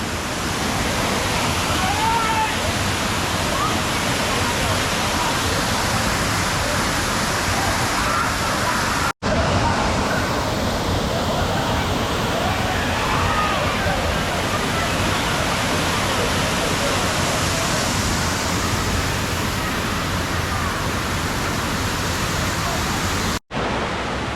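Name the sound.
waterfall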